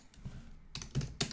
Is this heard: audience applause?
no